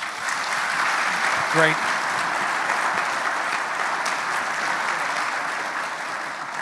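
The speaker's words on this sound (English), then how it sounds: "how about a round of applause for our panelists?" Sustained applause from an audience at an automotive dealership industry panel, steady and moderately loud throughout, with a brief spoken word from a man partway through.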